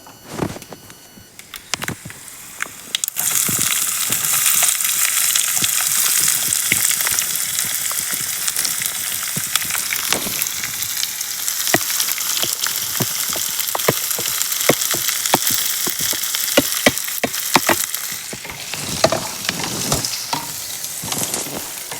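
Onion and green chillies frying in a pan, a quiet start giving way after a few seconds to a loud, continuous sizzle with frequent sharp crackles and stirring clicks, heard alone without talk.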